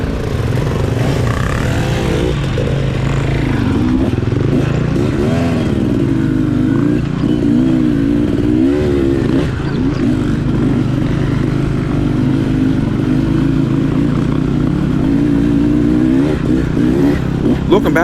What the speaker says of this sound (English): Leading the trail ride today is Rick on his Beta 300 Race Edition